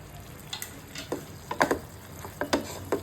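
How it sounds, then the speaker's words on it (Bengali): A spatula scrapes and taps through okra (ladies finger) tossed with garam masala and spices in a pan, giving sparse, irregular clicks and scrapes over a faint low sizzle. "এবার মশলা আর ভেন্ডি সবকিছু একসাথে মিক্স করে আরও 4 মিনিটের মতো নেড়ে চেড়ে রান্না করে নেব"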